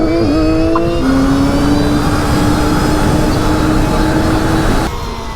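A homemade mini Stark Varg electric motorcycle runs close by, a steady high electric whine with road and wind noise that holds loud and level, then drops away at the end.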